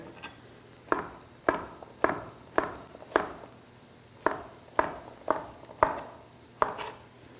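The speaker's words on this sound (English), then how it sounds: "Our heat is nice and high. Our mushrooms are turning brown and caramelized." Mushrooms browning in a hot pan over high heat, with a soft steady sizzle broken by about a dozen regular scraping stirs or tosses of a utensil against the pan, close and clear with no talking.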